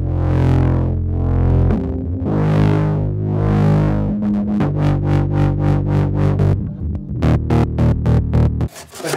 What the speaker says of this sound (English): What's the most futuristic distortion pedal you have? The Poly Flat 5. The whole thing is a touchpad.